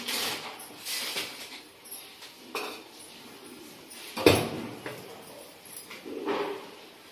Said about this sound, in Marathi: तर इकडे कढई गरम करायला ठेवली